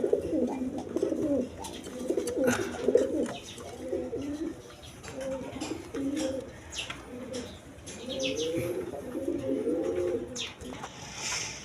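Pigeons at a Bangladeshi pigeon sale coo in repeated low, rolling phrases across the whole stretch, close and steady, with a few faint chirps above; no one speaks.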